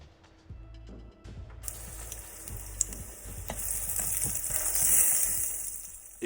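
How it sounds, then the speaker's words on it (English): Food sizzles and crackles in hot olive oil in a pan, quiet at first and then building to a loud, steady hiss with small pops and stirring clatter. "And then I'm going to add them in my pan, nice hot olive oil. Get them in there, get them sizzling."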